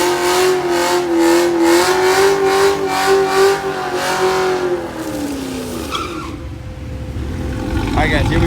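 A nitrous S550 Mustang and a Z01 run at a drag strip, with a loud sustained engine drone rising in pitch as the cars launch, then tire noise and a fading roar.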